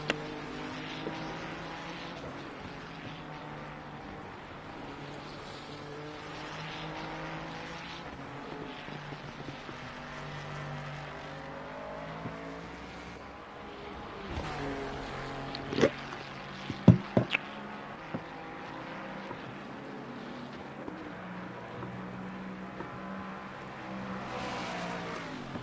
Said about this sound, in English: We will see perhaps, I want to say, 7 to 9 laps of racing here around this Silverstone circuit.